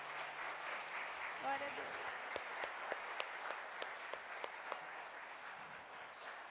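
Applause from a church congregation during worship, fairly soft and distant, with scattered sharper claps standing out; a voice speaks briefly near the start.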